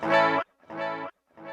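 Guitar delay from a Temu Cube Baby multi-effect pedal: a note followed by two echoing repeats in steady rhythm, each slightly quieter than the one before, played alone.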